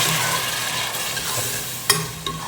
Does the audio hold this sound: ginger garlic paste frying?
yes